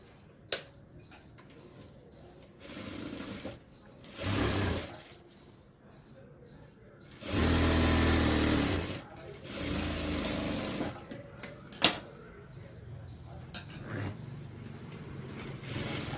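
Sewing machine joining churidar neck pieces, several short bursts of close mechanical stitching whir separated by quiet handling and clicks, with someone speaking Tamil between runs.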